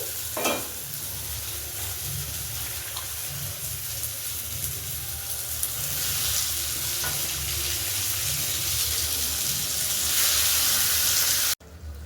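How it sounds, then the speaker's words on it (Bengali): Fish frying in hot oil and spiced masala in a pan, a steady loud sizzle with stirring and spattering that swells toward the end before cutting off. "এবার এর মধ্যে আমি মাছগুলো দিয়ে দেব"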